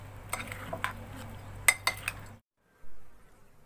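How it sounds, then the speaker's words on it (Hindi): Two spoons toss Russian salad with raisins in a bowl, giving light scattered clinks and scrapes up close, then stopping into near silence. "अब इनको दो चम्मच की मदद से मिक्स कर लेंगे।"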